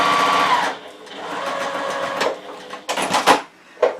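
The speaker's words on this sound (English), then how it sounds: "stitching along the short end, any end, doesn't matter which, and about 1/4 inch seam allowance" A sewing machine stitches a fabric seam with a quarter-inch allowance along a strip, running in a close whirring burst, slowing, then starting again in short uneven spurts with brief pauses.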